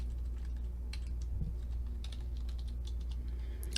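Light keyboard clicks tap out in short, irregular bursts over a low background hum, faint and close.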